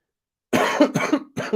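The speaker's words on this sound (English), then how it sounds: "I have got a bit of a cough." Three quick, harsh coughs in a row, close to the listener, following a moment of silence.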